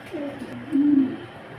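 Mundian pigeons on a breeding farm give a couple of low, rolling coos close by, the second louder and longer, with no talk over them.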